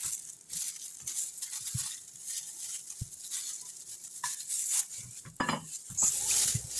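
Onions and bell peppers being mixed into shredded cabbage for coleslaw by gloved hands, a steady close rustling and squishing with scattered soft clacks and scrapes, no talk.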